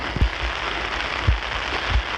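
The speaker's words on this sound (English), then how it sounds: "the heavens have opened today with just over 18 millimeters of rain so far" Heavy rain falls on an outdoor golf green, a steady close hiss of downpour broken by a few soft low thumps.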